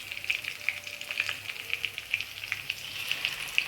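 Ginger paste sizzles in a hot pan while cooking for an aloo tomato curry, a steady close crackle with frequent small pops and spatters throughout, no voices.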